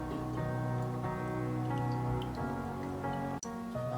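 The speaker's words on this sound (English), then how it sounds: "The water is boiling well" A pan of water at a rolling boil for biryani rice bubbles steadily in a kitchen, the bubbling continuous and close, set against a humming background tone.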